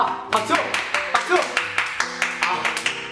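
A single person claps hands in a quick, regular rhythm of about a dozen sharp, close claps, with music playing underneath.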